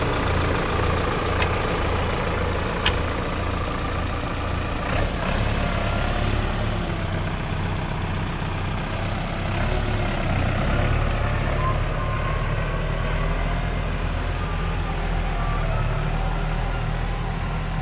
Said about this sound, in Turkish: Size traktörün sesini ileri geri girişini izleteceğiz.